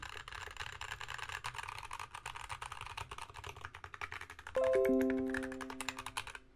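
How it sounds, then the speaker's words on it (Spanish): Steady, rapid typing on a custom CU65 mechanical keyboard with crisp clacky keystrokes throughout, and a brief bright chime ringing in near the end. "Como veis tiene muy buen sonido el, teclado"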